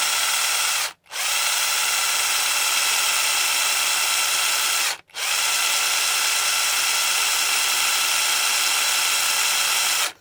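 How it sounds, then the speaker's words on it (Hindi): A power drill spins a salvaged scrap 775 DC motor's shaft in a loud, steady high-pitched whine, cutting out briefly twice before resuming at the same pitch. "तो चलो मैं ड्रिल को हटा ही देता हूँ"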